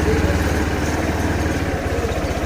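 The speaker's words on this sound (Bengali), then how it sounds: "বাইক নিয়ে বেরোলাম ভর দুপুরে।" A motorcycle engine runs steadily and fairly close, its low, even throb continuing without a break from start to end and with no voices over it.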